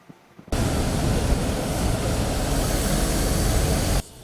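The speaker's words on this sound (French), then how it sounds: "l'avion Embraer E190-E2 a décollé de l'aéroport d'Ivat" An Embraer E190-E2 airliner taking off from Ivato airport sounds as a loud, steady broadband jet roar that swells in abruptly and holds constant for about three and a half seconds before cutting off, with no voices over it.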